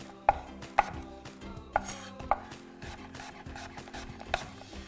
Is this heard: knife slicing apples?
yes